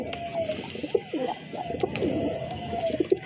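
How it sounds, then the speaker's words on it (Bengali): Domestic pigeons at a pigeon loft, including blue Rajgolla birds, give repeated low throaty coos and soft calls, close by and steady, over a continuous background hum. "আরেক জোড়া কবুতর"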